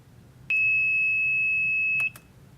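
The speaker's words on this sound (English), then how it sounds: "So the buzzer goes off and the LED is on when the tea is at the proper temperature" A tea maker's electronic buzzer sounds one steady, loud, high tone for about one and a half seconds, followed by two short clicks or chirps, against quiet background noise.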